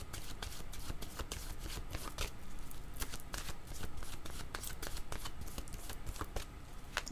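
Tarot cards being shuffled by hand, a steady run of quick riffling flutters and soft slaps, close and fairly quiet, with no talking.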